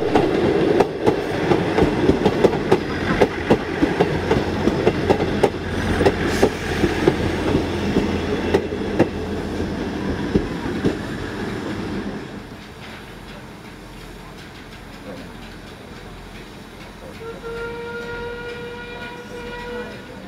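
Rail traffic at Yeovil Junction station in Somerset during a summer steam event: a loud, close rumble of passing carriages for about twelve seconds, then quieter station ambience with a thin sustained tonal squeal or whistle near the end.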